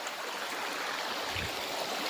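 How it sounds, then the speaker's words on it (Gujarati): Small stream flowing through the Hanuman Gala area of Gir forest, a steady broadband rush of water running close by with a soft low thump partway through, no voices. "ને આવું કંઈક ઝરણા છે અહીંયા"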